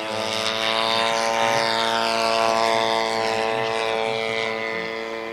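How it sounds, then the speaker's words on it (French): A Stuka model aircraft's engine runs at full throttle before takeoff at a model airplane meet, making a loud, close, steady buzzing drone with a strong harmonic whine that swells slightly and holds throughout. "on met le moteur plein pot pour voir si"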